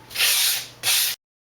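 A sandpaper block of plywood and balsa is drawn across a composite plane wing core in two quick, close, hissing strokes, followed by silence.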